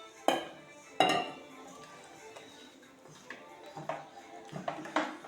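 A utensil knocks and scrapes against a bowl while Jamaican-style Blue Draws (dukunu) batter is mixed: two sharp clinks early on, then quieter stirring, and a run of quick taps toward the end.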